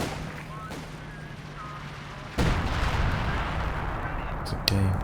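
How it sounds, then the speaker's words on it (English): Base artillery fire in Company of Heroes 2 during a 1v1 match: a sudden heavy blast at mid-clip opens into a sustained rumbling barrage, with another sharp impact near the end, over a low steady hum. "VonIvan using the base artillery to keep PauL pegged in his base sector."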